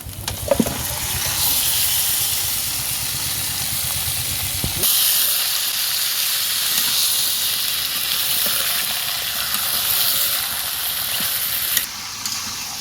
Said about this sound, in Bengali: মাংসটা ভালো করে নাড়াচাড়া করে একটু কষায় নেব